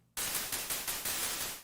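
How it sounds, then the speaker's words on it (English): A white noise layer added on top of a hi-hat sample in a music production plugin, a loud hissing burst that pulses in a quick repeating rhythm before fading, with no talk. "that's just some like white noise on top"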